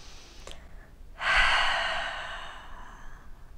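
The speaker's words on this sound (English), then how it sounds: "Take one more full letting go breath." A single long exhaled breath during a yoga exercise, a soft airy whoosh that swells quickly and fades gradually over a couple of seconds, close and quiet, with no talking.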